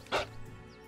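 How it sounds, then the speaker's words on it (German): A single short wolf bark in the fantasy role-playing game Pathfinder: Kingmaker, sharp and fairly close, fading into a low background hum with no talk. "Wieder mal ein Spiel mit Wölfen."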